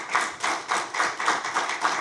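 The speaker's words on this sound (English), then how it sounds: "we should give him a round of applause for that" Rhythmic, evenly spaced claps ring out at a ministerial council meeting, about eight beats in two seconds, steady and fairly close, like a small group clapping in unison for a minister.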